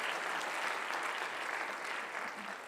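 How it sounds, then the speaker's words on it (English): Audience applause fills a Santa Monica State of the City event in 2019, a steady, dense clapping from a large crowd that holds evenly throughout and eases slightly at the end. "you can clap if you want"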